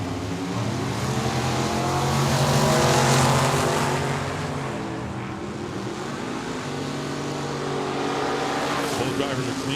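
A Willys Jeep and a 1963 Chevy II launching at a Tucson Dragway drag race, engines roaring loud and droning with rising revs that swell and fade, under an announcer's continuous commentary.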